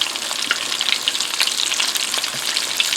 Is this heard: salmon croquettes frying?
yes